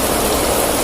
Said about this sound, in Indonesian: Hujan deras.